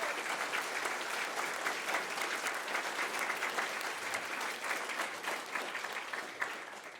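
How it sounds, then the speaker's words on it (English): An auditorium audience at the 2022 National Science Bowl opening remarks claps for the coaches, a sustained, even round of applause from a large crowd that stays steady throughout. "Let's give a nice round of applause to all those coaches that are out there."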